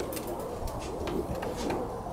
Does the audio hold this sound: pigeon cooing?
yes